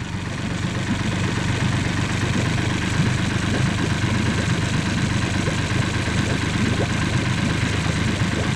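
A Mercury 40 hp outboard motor idles steadily, a continuous low rumble with a faint rattle, close and fairly loud throughout.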